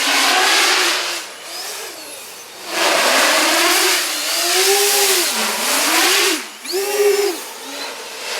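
Large 5215 330kv iFlight motors on a 12s X-class FPV drone scream past in full-speed passes, their pitch sweeping up and down as the loud whine swells, dips briefly, then surges again.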